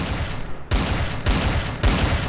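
Desert Eagle pistol fire in the video game Garry's Mod, several loud booming shots spaced about half a second apart, each with a long sustained roar and ringing decay, no voices.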